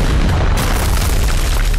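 A tank gun fires at a building, a single massive close boom with a sustained rumbling explosion filling the short moment, loud and alone without speech.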